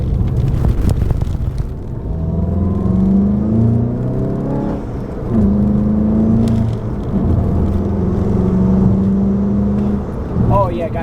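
A VW MK7 GTI accelerates hard down a road, its engine note rising and dropping through several sustained pulls with a steady rumble close by inside the car.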